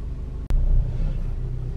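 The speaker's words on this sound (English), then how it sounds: "A quick launch control right behind Audi." An Audi S3 (8Y) roars through a launch control start, a loud, deep engine rumble close by, broken by a single sharp click near the start.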